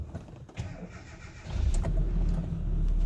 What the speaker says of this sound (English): Now it's time to start the car and make sure it idles fine.